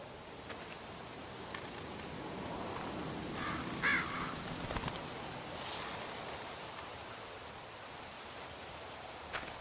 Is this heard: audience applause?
no